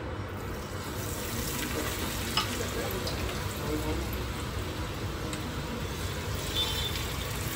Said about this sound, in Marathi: पहिला आपण कांद्याची भजी घालूया।